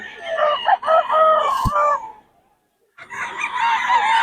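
A rooster crows loudly and close, two drawn-out calls separated by a brief silence, with a sharp click between them.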